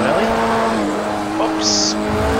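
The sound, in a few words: race car braking in video game Project Cars 2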